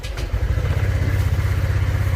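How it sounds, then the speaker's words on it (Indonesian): A motorcycle engine idles steadily with a Motowolf phone holder mounted on it, giving a continuous low, close rumble that starts just after a brief quiet moment. "Dan kita nyalain dulu kita nyalain, coba nyalain, lihat teman-teman getarannya"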